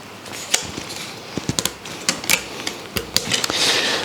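Hand saw cutting a wooden shoji lamp frame piece in half in a woodworking shop, heard as a loose run of sharp, uneven rasping strokes and clicks, close and fairly loud, with no talking.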